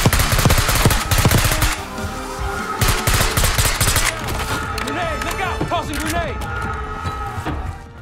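Gunfire in the shooter game Black Ops 6: dense bursts of rapid automatic shots up close that thin out to scattered shots and mechanical clatter, with voices talking over the action.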